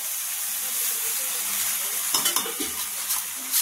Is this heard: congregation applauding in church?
no